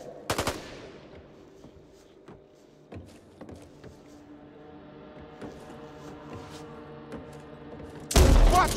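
Gunfire in the zombie shooter Back 4 Blood: a short burst of rapid shots opens, scattered sharp reports and clanks follow over a low background hum, then a loud blast of fire closes, with almost no talking.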